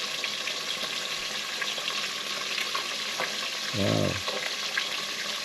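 Porgy fish frying in oil in a pan on a stovetop, a steady close sizzle running throughout, with a brief low bubbling burst near the end and a single short spoken exclamation.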